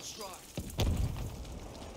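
A tank being destroyed in the Battlefield 5 video game sets off a sudden deep boom, with a rumbling blast that sustains and then fades into a steady background of battle noise.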